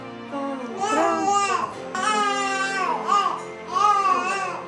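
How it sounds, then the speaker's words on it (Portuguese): An infant cries in repeated wailing bursts, loud and close, with rising and falling pitch over several breaths. "Bebês também choram."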